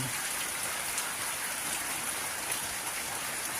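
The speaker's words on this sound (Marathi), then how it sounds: "आता पाऊस यावेळी पाऊस पडतो आहे" Heavy evening rain pours down on Naradawe village in Kankavli taluka, Sindhudurg district, in the Konkan, as a dense, unbroken hiss of falling drops close around the microphone, with no talking.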